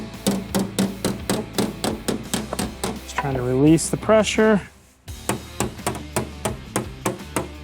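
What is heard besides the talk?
hammering out dents on an off-road vehicle body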